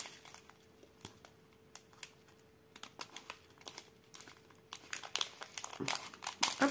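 Small plastic sachets of diamond painting drills are handled close by, giving scattered crinkles and rustles that grow busier and louder toward the end, with no talk.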